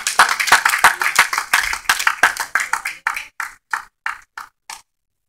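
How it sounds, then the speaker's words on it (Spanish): A church congregation claps together in a quick, steady rhythm, loud and close at first, then the claps thin out and slow to a few sharp, separate strikes before stopping. "Denle un aplauso a la gloria del Señor Jesucristo."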